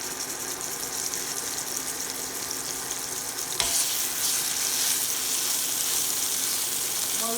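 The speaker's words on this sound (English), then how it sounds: "And you can hear the nice sizzle." Steaks frying in olive oil in a hot pan, a steady close sizzle with constant crackle that swells slightly midway and carries on without pause.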